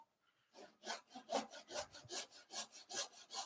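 A hand push saw rips wood along the grain in a steady rhythm of about a dozen close, rasping strokes, each a brief swell of scratchy cutting noise, with no talking.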